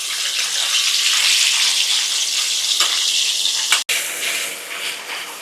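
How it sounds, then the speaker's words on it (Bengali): Coarse onion paste fries in hot oil for a tilapia dish, giving a loud, steady hiss and sizzle that stays close throughout, broken by a brief sharp cut near the end. "পেঁয়াজটা একটু ভাজা হয়ে আসলেই আমি বাকি মশলাগুলো দিয়ে দেব।"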